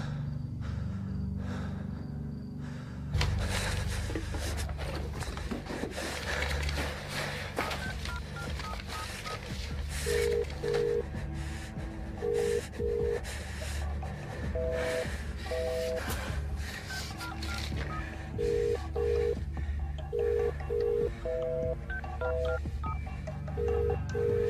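A telephone call ringing unanswered on the line: paired electronic ring tones repeat at a steady pace over a low rumble, with audible breathing nearby.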